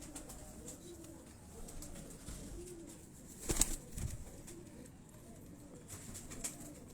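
Prince-breed pigeons coo softly at a rooftop loft in Lahore, faint and distant against quiet background noise, with a brief louder flutter or rustle about midway.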